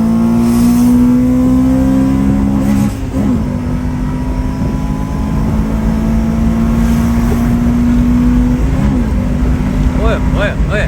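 Car fitted with a Honda B16 Type R engine revving hard and accelerating, a loud sustained engine whine climbing in pitch with brief dips at gear changes, heard from close by with voices alongside.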